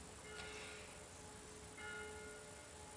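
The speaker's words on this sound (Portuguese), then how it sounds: "O sino tá tocando." A church bell rings faintly in the distance, two soft tonal strikes with lingering hum under a quiet room background.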